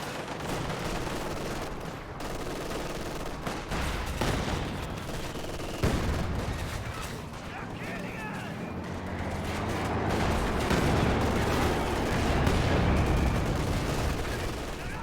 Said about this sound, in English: Just tank shooting the infantry around.